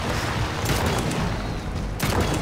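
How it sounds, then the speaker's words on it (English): Cannon fire in the video game Trailmakers, from an attack submarine against a futuristic battle tank, comes as a dense run of loud, booming blasts that rumble on without pause. "Oh shit, he's shooting back!"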